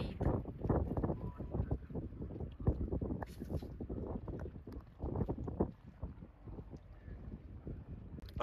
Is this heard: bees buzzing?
no